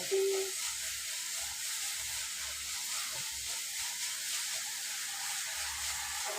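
Onions sauté in a pan with a steady, faint hissing sizzle, broken by a few soft stirring scrapes and one brief tone at the start.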